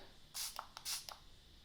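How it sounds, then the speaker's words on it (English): Two quick, soft hisses of Fix Plus setting spray misted into an eyeshadow lid, close and faint in a quiet room. "I'm going to spray Fix Plus into the lid."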